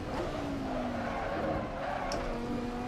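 A race car on slick tyres in Automobilista 2 drones steadily at high revs while sliding, with a faint tyre scrub under the engine, loud and continuous, while someone talks over it.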